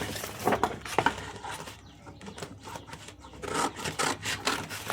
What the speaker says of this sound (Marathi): तर इथे मी सर्वात पहिल्यांदा हे सरळच कटिंग करून घेते.